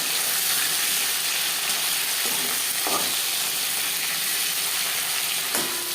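Hilsa fish pieces fry lightly in a pan for a potato and hilsa curry, giving a steady, close sizzle and hiss with a few faint stirring clinks.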